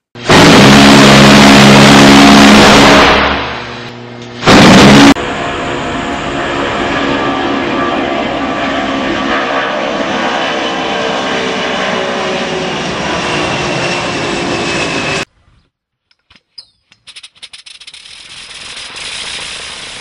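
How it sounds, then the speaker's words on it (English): A homemade RC aircraft sound module plays effects through a small MP3 player: a loud burst of noise cuts off and restarts, then a steady droning engine hum runs for several seconds before stopping, followed by scattered faint clicks. "RC sound effects, like an engine starting up, machine gun fire, rockets launching"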